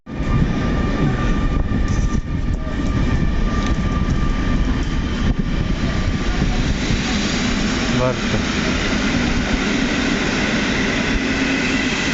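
A Mazowiak passenger train pulls away from Łowicz Główny station, a loud, continuous rumble and rolling clatter carrying on steadily for the whole stretch, with voices faintly underneath.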